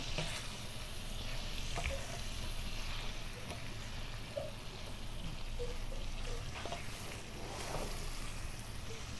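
Soft, steady frying sizzle with occasional scrapes and clicks of a utensil stirring fried shredded tuna around a pan for sambal, fairly faint and without talk.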